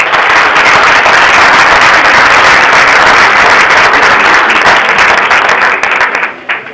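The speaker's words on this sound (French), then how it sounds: "Je pense que ça mérite des applaudissements." Loud, dense applause from a conference audience, a sustained roar of many hands clapping at full strength that thins and fades out toward the end.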